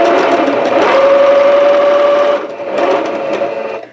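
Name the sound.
sewing machine sewing a quarter inch seam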